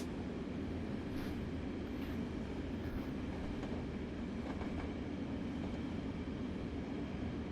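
A heavy train runs at night near Union Station in Train Sim World 4, giving a steady loud rumble with faint rhythmic rail clicks and occasional high squeals, with no talking.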